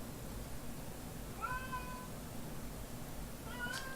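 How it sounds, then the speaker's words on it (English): A cat meows twice, a short rising call followed by another a couple of seconds later, set against a steady low background hum. "Sorry if you can hear the cat in the background."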